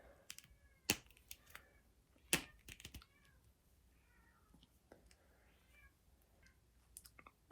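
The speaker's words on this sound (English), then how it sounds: "You can hear my cat going crazy out there." Domestic cat going crazy, meowing several times at moderate distance, with sharp clicks and knocks around it and brief faint speech.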